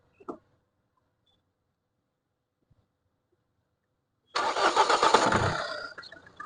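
A 2016 Mahindra XUV500 W10 engine cranks and starts after a short silence, then holds a loud, close idle that gradually settles. A faint click comes at the start.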